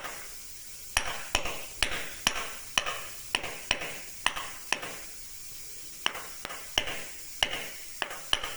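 A mallet strikes a steel chisel while carving a rope pattern in stone: sharp, close knocks, around sixteen of them, at an even, unhurried rhythm with brief pauses, no talking.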